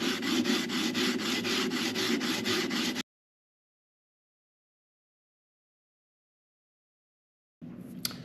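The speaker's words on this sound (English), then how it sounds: "This is a 16-inch radius sanding beam, which matches the radius of my fingerboard." A 16-inch radius sanding beam rubs back and forth over a guitar fingerboard in steady, rapid strokes for about three seconds, close and loud, followed by a long silence and a brief return of the scraping.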